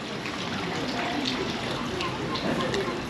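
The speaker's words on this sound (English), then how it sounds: "little fountain, trickling of water, fabulous." A little fountain trickles at a seaside hotel restaurant, a steady, continuous wash of running water close by with faint murmuring voices in the background.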